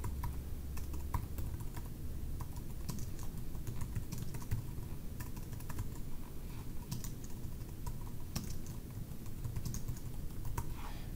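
Steady, fast clicking of a computer keyboard as someone types at length, even and continuous, with no voices.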